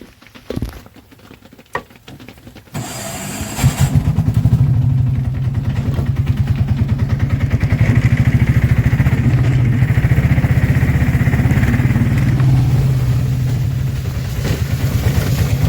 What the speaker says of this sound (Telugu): ఇప్పుడు మళ్ళీ బండి స్టార్ట్ చేయాలి